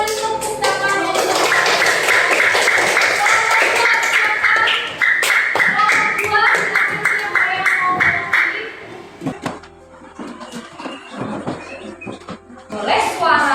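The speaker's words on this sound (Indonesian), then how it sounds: "Kita beri tepuk tangan dulu." Audience clapping hands at a teacher performance assessment session, many claps blending into a loud patter for several seconds, then thinning out to scattered claps with voices and shuffling around it.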